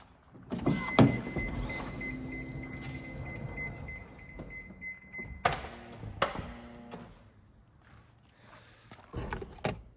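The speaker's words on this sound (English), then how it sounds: "The door is sliding open, so get you very big access." The sliding side door of a 2005 Toyota Voxy 2.0 eight-seater van rolls open with a motorized whir and mechanical clunks, followed by a few door thuds and latch knocks, recorded close up.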